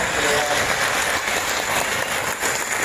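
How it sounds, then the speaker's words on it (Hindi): Loud, dense applause fills the room as an audience at a business seminar claps for a guest, a continuous roar of many hands with no pause, close and full throughout. "देवजीत जी के लिए जोरदार तालियां हो जाए"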